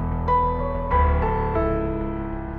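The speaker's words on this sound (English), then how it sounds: "So the next sound is a synth bass sound." Synth bass layered with piano in Mainstage, a few deep sustained bass notes changing under ringing piano chords, played alone with no voices.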